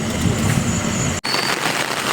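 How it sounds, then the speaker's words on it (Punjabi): Heavy rain pours steadily at the Mata Naina Devi shrine, a dense, close hiss that drops out abruptly for an instant before resuming just as strong. "ਬਾਰਿਸ਼ ਜਿਹੜੀ ਬਹੁਤ ਜ਼ਿਆਦਾ ਪੈਣ ਲੱਗੀ"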